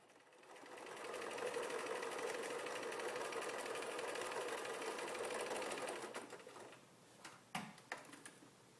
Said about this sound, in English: We're going to stitch from corner to corner, again with the point on the center line of the angler.